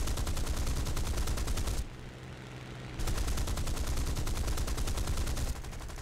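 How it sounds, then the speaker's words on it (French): Rapid machine gun fire from War Thunder, loud, dense bursts of shots that run steadily, break off for about a second, then resume with the same hard, even rhythm. "Non, j'ai plus qu'une mitraillette"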